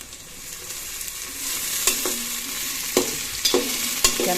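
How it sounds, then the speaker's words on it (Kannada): Onions fry in oil with curry leaves and coriander for puri usli, a constant crackling sizzle broken by several sharp scrapes and clacks of a spatula stirring the pan, with no talking. "ಚೆನ್ನಾಗಿ ಫ್ರೈ ಮಾಡ್ಕೋಬೇಕು ಈರುಳ್ಳಿ"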